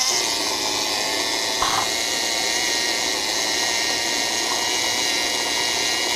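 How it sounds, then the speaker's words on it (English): A Magnasonic traction car engine gives a loud, steady whine that hums continuously at an even level, with a brief click partway through. "this is what a Magnasonic car sounds like"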